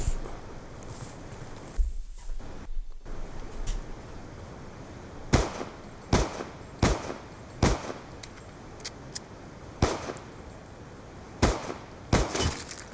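Gunfire from a PDW loaded with FMJ rounds in the Black Ops 2 video game: about ten sharp, loud shots in an irregular burst-like rhythm, preceded by a few seconds of quieter game ambience.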